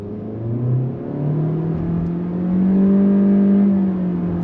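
A 2023 Honda Accord LX sedan accelerates hard in sport mode, its engine droning loud and steady with the revs climbing, simulated shift steps breaking the rise, then pulling up again without a pause.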